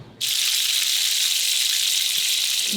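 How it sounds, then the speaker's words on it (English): Eggs and bacon sizzle steadily in a hot pan, a loud, even hiss that starts abruptly and continues without a break. "You can probably hear it sizzling in the background."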